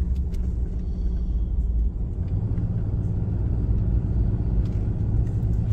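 Old Dodge Ram truck driving off road on a trail, a loud, steady low engine rumble with the cabin droning throughout and faint knocks and rattles from the rough ground, no talking.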